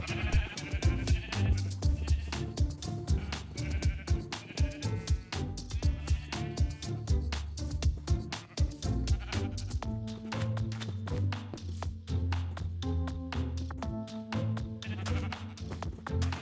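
Minecraft sheep bleat repeatedly over busy game music, several short calls overlapping as a flock is herded on a wool farm.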